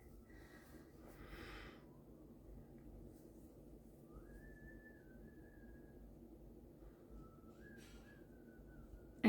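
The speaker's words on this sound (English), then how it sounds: "can hear like whistling in the background" Faint tonal whistling in the background of a quiet room, a few thin sustained pitches that glide and waver, interspersed with soft breathy noises.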